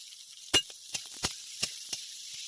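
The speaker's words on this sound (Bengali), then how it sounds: "কুচি কুচি করে কেটে রাখা পেঁপেটা দিয়ে দেবো," Chopped papaya fries in white oil with green chili in a kadai, a soft sizzle broken by several sharp spatula knocks and scrapes against the pan.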